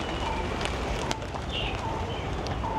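Pigeons coo repeatedly on a bustling Delhi street, their soft rounded calls rising over a dense, constant roar of traffic and crowd noise, with a few sharp knocks and brief high tones scattered through.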